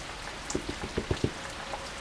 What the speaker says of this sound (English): all this freaking rain we've been having